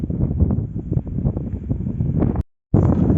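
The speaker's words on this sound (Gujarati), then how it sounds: "વાહ જાવ ખતરનાક પવન આવે છે ને" Strong wind on the Girnar hilltop buffets the microphone with heavy, gusty roaring, close and loud, briefly cutting out before resuming.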